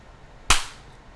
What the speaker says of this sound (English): That was the sound of my palm colliding with my head.